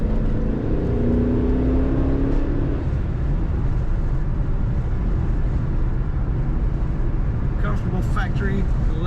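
A 1995 Chevrolet Corvette Coupe drives and corners, giving a steady rumble of engine and road noise with a faint engine tone early on, heard from inside the car.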